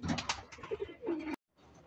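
Checkered pigeons coo in a short, fairly faint run of soft notes that stops abruptly partway through and then resumes briefly.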